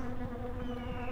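Bees buzz in The Grinch video game, a close, steady droning hum heard alone for a brief moment.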